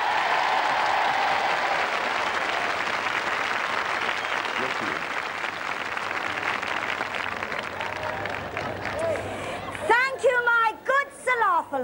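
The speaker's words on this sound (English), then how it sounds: "With a hearty round of applause," A large audience gives a hearty round of applause at a televised royal charity knockout tournament. The clapping is dense and sustained for several seconds, then fades as a voice begins talking near the end.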